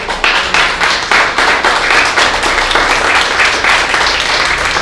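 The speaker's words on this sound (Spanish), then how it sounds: "¿Le pueden dar un aplauso al Señor?" A church congregation claps together during a sermon, a loud, dense round of applause with a slightly rhythmic pulse running for several seconds, no voices on top.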